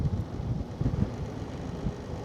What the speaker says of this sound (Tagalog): malakas ng hangin, no? Lumalaban.